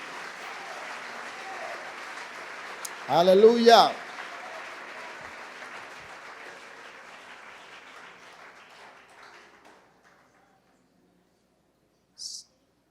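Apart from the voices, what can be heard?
congregation applause in church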